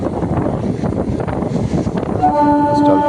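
A passenger train running, a loud continuous rumble and rattle of carriages with wind buffeting, and a tonal horn-like whine rising near the end.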